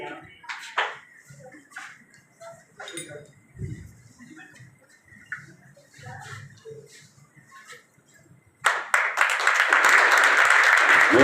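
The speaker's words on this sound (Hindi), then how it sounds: "जोरदार ताली है" A ceremony honouring matriculation students in Maniyar Mahmadipur breaks into loud, dense applause from the audience near the end, after a stretch of quieter clinks, shuffling and murmur.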